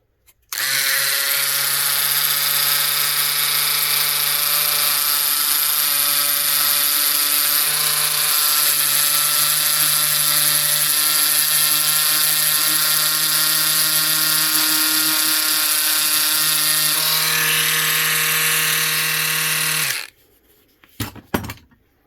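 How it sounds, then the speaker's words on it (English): A small Ryobi power sander grinds a flat spot onto a wooden bottle opener, a loud steady buzzing whine running continuously for about twenty seconds before cutting off abruptly, followed by brief clatter. "I'm going to use this little Ryobi sander to put a little flat right there"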